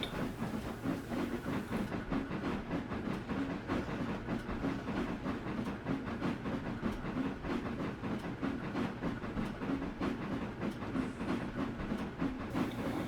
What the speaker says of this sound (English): Spokane Falls and Northern engine number 8, a 460, backing out of the engine facilities